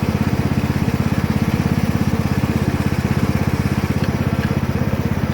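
A John Deere riding mower's small engine chugs steadily at close range, its rapid, even pulsing loud and constant at idle, running smoothly.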